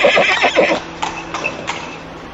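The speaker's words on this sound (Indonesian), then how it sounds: "Itu suara dari derap langkah kuda." Horse hoofbeats clip-clop in a quick rhythmic series, then a horse neighs in several rising whinnies that fade out, all near and fairly loud with no talking, heard on a mountain hiking trail.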